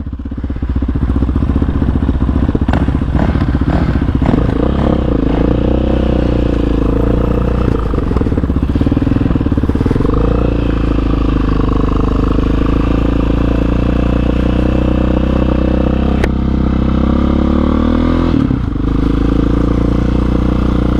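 A 2007 Yamaha YFZ450 quad fitted with a Jet Lab carburetor rides down a road, its engine droning steadily and loudly for the whole stretch, with small rises and dips in revs as it goes.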